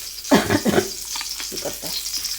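Green beans and carrot frying in oil for Ethiopian fosolia, a close, steady sizzle with a few louder crackling bursts early on that settle into quieter spitting.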